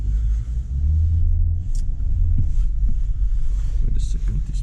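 A 2015 Toyota Land Cruiser 200 with a V8 pulls away at night, its engine a low, steady rumble from inside the cabin, swelling slightly as it drives, with faint clicks and cabin noises over it.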